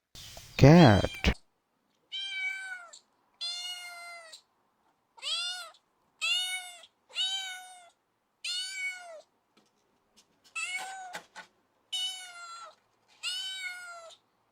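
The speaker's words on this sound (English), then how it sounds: "Cat." A cat meows over and over, clear close calls at a steady pace after a loud brief opening sound.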